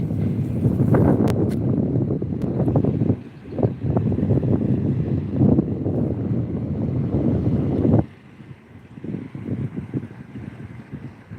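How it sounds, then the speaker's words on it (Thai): Steady sea wind gusting across a microphone on a beach under overcast skies, a broad rumbling rush that drops off noticeably near the end. "บรรยากาศชายทะเลนะครับ บรรยากาศดีครับลมพัดเย็นสบาย"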